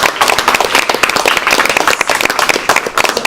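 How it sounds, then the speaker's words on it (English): An audience gives a round of applause, dense, loud and close clapping that continues evenly throughout, with no talking over it. "So can we just give Judy another round of applause?"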